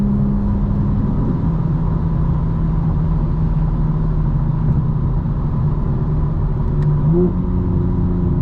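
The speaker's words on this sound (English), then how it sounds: "A little bit of wind noise coming in. Get some exhaust." A 2025 BMW M4 Competition xDrive heard from inside while driving, a steady loud low exhaust drone and road rumble with a constant hiss of wind noise, the engine tone shifting slightly near the end, no talk.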